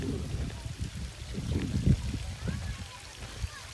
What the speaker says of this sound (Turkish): Bak buraya böyle güzel şelale yapmışlar. Sular akıyor ama ne bileyim.